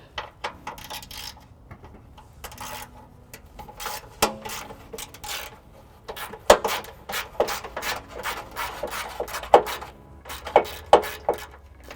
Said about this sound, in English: I'll need to remove the heat shield using a 10mm. In the socket.